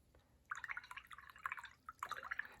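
A paintbrush is swished and rinsed in a water jar while watercolour painting, giving light splashy trickles and small drips in two short bursts at close range, no talk.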